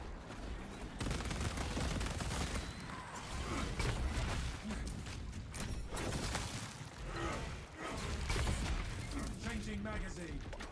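A frag grenade in the game Darktide goes off amid a chaotic firefight, with bursts of gunfire, crashes and mechanical clatter piling up continuously, loud and close, while a voice talks over the action.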